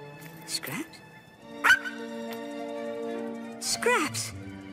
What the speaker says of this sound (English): Scraps! My dog Scraps!